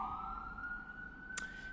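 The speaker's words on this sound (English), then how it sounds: "I don't know if you can hear the sirens, that's New York." A faint emergency siren wails in the distance over low New York City hum, with a brief sharp click near the end.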